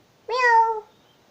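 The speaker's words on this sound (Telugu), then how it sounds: "పిల్లి" A single clear cat meow rises and holds for about half a second, close and moderately loud against near silence.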